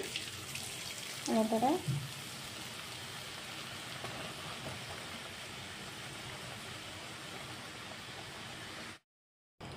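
Potato aloo juri frying in hot oil gives a continuous soft bubbling sizzle throughout, with a brief spoken word near the start.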